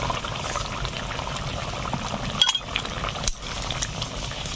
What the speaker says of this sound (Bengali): ঝোল ফুটতে শুরু করে দিয়েছে